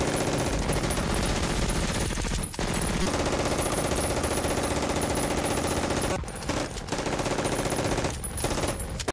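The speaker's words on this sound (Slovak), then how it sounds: "naše airsoftky strieľali, že prásk" Animated airsoft gunfire with rapid automatic bursts, including an MP5-style gun, fills the scene as a dense, loud rattle with a few brief gaps.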